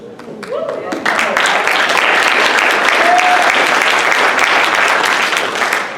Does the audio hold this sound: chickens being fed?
no